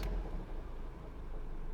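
A car engine revved to about 2,000 rpm while parked on a home driveway, giving a steady, close, low rumble with no voices over it.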